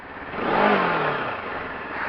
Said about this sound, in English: When you're revving it and you're riding it around, when you let go of the throttle and you close it,